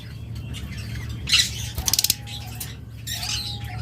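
A breeding pair of green opaline parrots gives a few harsh squawks and a rapid burst of chirps over a low steady hum, with some wing flapping or rattling nearby.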